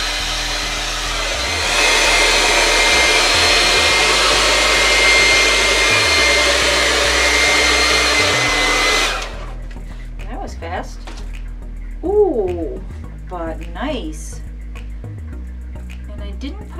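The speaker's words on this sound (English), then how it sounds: "I'm gonna use it on the hair dryer that I'm able to control the power on" A hair dryer with adjustable power blows with a steady, loud whoosh for several seconds across wet pour paint, then cuts off, leaving a voice talking with some soft background sounds.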